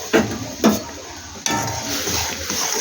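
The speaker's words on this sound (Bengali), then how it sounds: "জলটা আমার ফুটে গেছে, এবার আমি সুজিটা আমি আস্তে আস্তে দিয়ে দিচ্ছি" Semolina poured slowly into boiling water in a home kitchen pot, with two sharp scraping clinks of a utensil against the pot followed by a steady bubbling, hissing boil close by.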